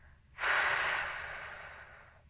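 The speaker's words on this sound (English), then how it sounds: "We push firmly and we breathe out." A single firm, close exhale pushed into an N95 mask held down by hands during a fit test, a sudden rush of air that slowly tapers off over about two seconds, with no voices.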